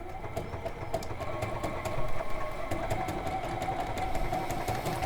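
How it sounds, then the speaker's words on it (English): A sewing machine stitches a ribbon name label with a steady, fast mechanical whirr and a rapid ticking of needle strokes. It runs continuously and close at moderate level, with no talk over it. "So I'm just going to pop that under on there, and again just sew that through"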